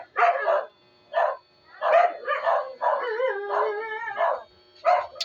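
Several dogs bark, yip and howl in quick bursts, fairly close and loud, the howls rising and wavering between sharper barks with short silences between.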